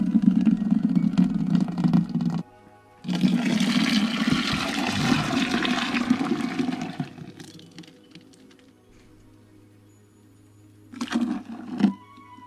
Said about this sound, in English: we are going to add the blended soybeans to a big pot with 10 cups of water.